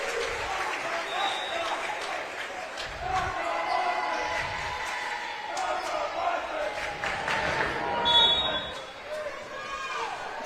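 A packed Hedgesville high school gym crowd at a volleyball match chanting in unison, a steady roar of many voices with rhythmic swells, scattered claps and squeaking shoes, loud and continuous throughout.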